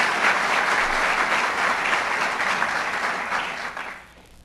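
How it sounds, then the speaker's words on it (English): Sustained audience applause at a governor's State of the State address in Jamestown, steady and full for about four seconds before tapering off at the end, with no talking over it. "Let's give him a round of applause."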